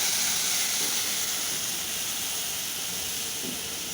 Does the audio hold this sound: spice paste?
yes